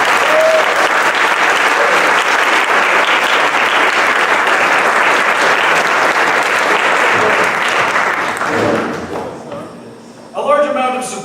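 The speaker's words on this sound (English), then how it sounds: "Round of applause for Jacob." A theater festival gala audience applauds loudly in a sustained, dense burst that fades out near the end, followed by a few thumps and the start of a voice.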